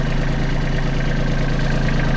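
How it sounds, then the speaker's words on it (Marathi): A tractor engine idles steadily with a reverse-forward rotavator attached, a continuous low, even rumble with a vibrating hum, close and loud throughout with no talking. "हा रिव्हर्स फॉरवर्ड रोटावेटर आपण वापरतोय ट्रॅक्टरला"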